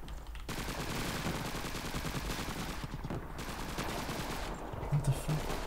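Gunfire in the video game Call of Duty 2, Russian campaign: sustained rapid rifle and machine-gun bursts crackle continuously at close to mid distance in a dense battle mix, loud throughout.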